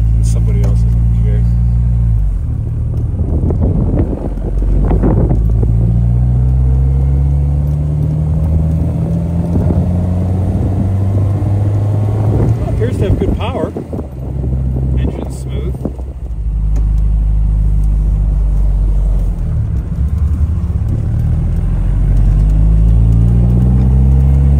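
A 1956 MGA's engine drones steadily while driving, rising and falling in pitch through repeated accelerations and gear changes, loud and close with road rumble throughout.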